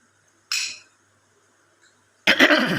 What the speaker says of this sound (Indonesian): Maaf nih, ada batuk, sedikit batuk.